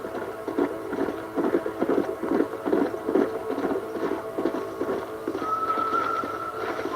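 Horses clip-clop steadily along in the Red Dead Redemption video game, a rhythmic run of hoofbeats over several seconds, moderately close, with a faint whinny-like tone near the end and no speech.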